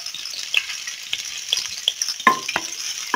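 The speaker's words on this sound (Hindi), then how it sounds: "और इसे लाइट गोल्डन होने तक फ्राई कर लेंगे।" An onion fries in ghee in a kadai, giving a soft bright sizzle broken by scattered clicks and scrapes of a spoon stirring, close and fairly loud with no voices.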